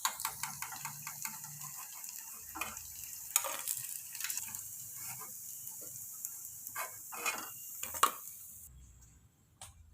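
Vada sizzling and bubbling steadily in hot oil, with occasional sharper crackles and stirring clatter, fading near the end.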